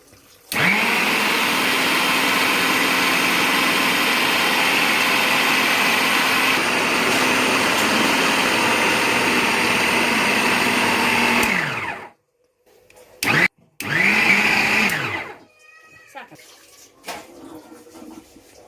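An electric atta kneader mixing chapati dough drones steadily and loudly for about twelve seconds, then cuts off. A brief burst of running follows, then quiet handling noises.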